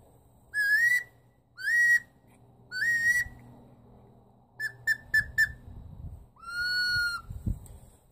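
A Ward Whistle duck call by Steelbird Calls imitates a wood duck: three rising squealed notes, then a quick run of short chirps and one longer falling whistle.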